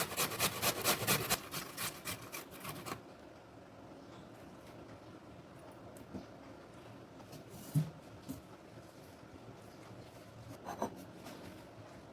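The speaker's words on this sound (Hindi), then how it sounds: "उसके बाद हम कर रहे हैं मोटी वाली साइड से ग्रेट।" Peeled potatoes are rubbed across the coarse side of a grater in quick, rhythmic rasping strokes for a few seconds, then only sparse, faint scrapes follow in a quiet room.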